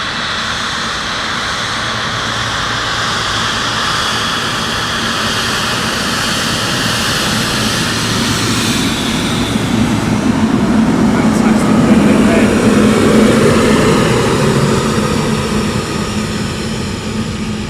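A DHL cargo aircraft taxiing past at East Midlands Airport, a loud, steady jet engine roar that swells as it draws closest and lingers, with a broad whine, sustained without pause, and a voice briefly speaking under it.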